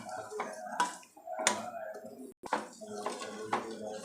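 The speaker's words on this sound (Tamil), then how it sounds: "இப்போ பாக வடிகட்டிடுறேன்" Dissolved jaggery syrup is strained in a home kitchen for sweet seedai, with liquid splashing and trickling in uneven bursts, soft drips, and light clinks of utensils against a vessel, fairly quiet and close.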